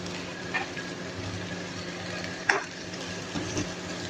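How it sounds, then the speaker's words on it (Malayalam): Curry leaves frying in hot coconut oil in a pan, a quiet continuous sizzle with a sharp crackle partway through and a few smaller pops, no voices. "കറിവേപ്പില ഇട്ട് കൊടുക്കാം."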